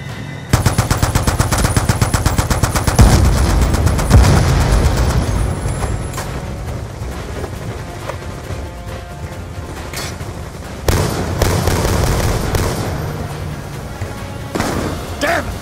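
Sustained machine gun fire in a video game battle aboard a barge, loud and dense with rapid bursts and heavy booms, later dropping to intermittent volleys amid rumbling engine noise.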